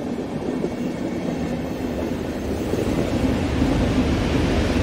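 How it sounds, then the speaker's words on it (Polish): A railway locomotive on a coal line rolls past with a steady, loud rumble that swells slightly as it nears. No one speaks. "Akurat pociąg przejeżdża, ale to jest sama lokomotywa, prawda?"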